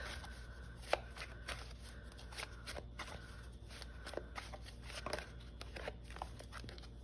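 Tarot cards are shuffled and drawn by hand with a steady run of soft, crisp taps and flicks, close and fairly quiet, with no voice over them.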